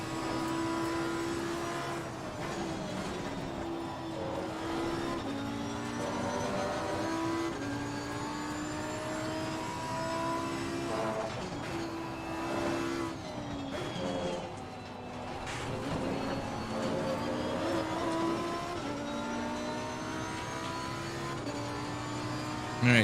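Simulated Lamborghini Huracan Evo GT race car at Imola in Assetto Corsa Competizione, its engine roaring steadily with rising and falling revs through gear shifts, loud and continuous with a brief lift around the middle.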